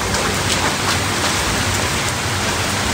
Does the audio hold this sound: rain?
yes